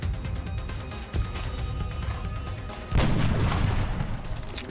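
Gunfire in the turn-based strategy game XCOM: Enemy Within, a dense crackling barrage of booming shots that swells louder near the end, steady and continuous across the whole stretch.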